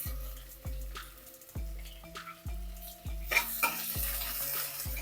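Garlic, ginger and onion frying in a pan, a rising sizzle under a series of regular, tonal knocking thuds about every three quarters of a second, with the frying growing louder and hissier toward the end.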